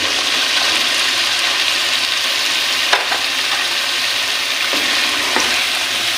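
Chopped bottle gourd being fried with chicken in a pan for lauki sabzi, a loud continuous sizzle with occasional sharp clinks and scrapes of stirring.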